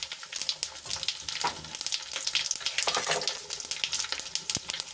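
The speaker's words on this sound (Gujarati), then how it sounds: "આપણા મરચા થોડાક સંકળાઈ જવા દઈશું" Chopped green chillies fry in hot oil with mustard seeds and sesame seeds, a tempering for methi muthiya. The crackling sizzle is close and busy, with stirring scrapes throughout and no voices.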